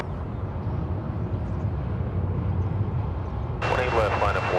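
American Airlines jet taking off at Dallas/Fort Worth International Airport, a steady, distant engine roar heard throughout; a radio voice briefly talks over it near the end.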